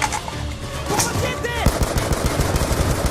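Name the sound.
gunfire in the video game Black Ops 2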